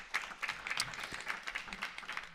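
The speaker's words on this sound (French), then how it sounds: "Vous pouvez les applaudir." Audience applause at the close of a round-table discussion on GMOs, a steady wash of many hands clapping at moderate distance for a couple of seconds, with faint voices mixed in underneath.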